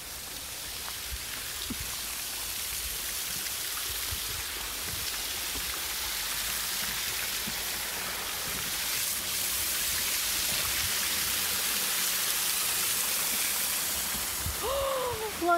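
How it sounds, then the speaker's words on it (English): A steady rushing wash of falling water fills the air, constant and broadband, like a waterfall heard from a short distance. "Now, can you hear the waterfall?"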